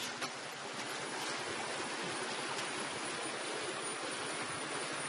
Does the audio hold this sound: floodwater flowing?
yes